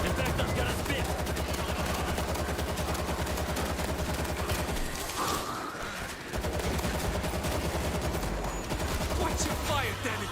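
Rapid automatic gunfire rattles through a zombie shooter video game, dense bursts that briefly drop out midway before resuming, loud and close, with voices shouting in the mix.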